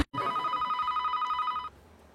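A telephone rings in a steady electronic warbling burst lasting over a second, close and clear, then cuts off as the answering machine picks up.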